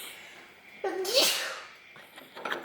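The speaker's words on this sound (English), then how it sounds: "We're trying to guess who's gonna be the first to sneeze" A single sharp, close sneeze bursts out after spice is stirred up in a home kitchen, followed by faint stirring sounds and voices.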